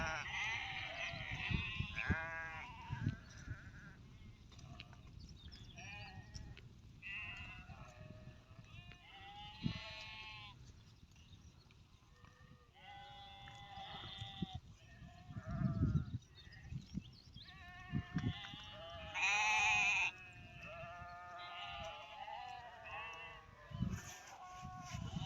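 Sheep bleat again and again across a snowy mountain pasture, calls near and far overlapping in a loose, irregular chorus with little pause between them.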